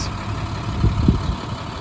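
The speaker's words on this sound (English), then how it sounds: "It's got a good running diesel engine." The diesel engine of a 2012 International PB105 short school bus idles steadily with a low, rumbling throb, a couple of brief louder knocks rising midway.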